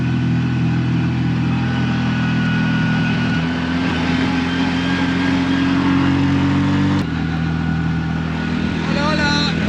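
A three-wheeled vehicle drives along on a road in Chile, its engine droning steadily and loudly with a shift in pitch midway, road and wind noise throughout.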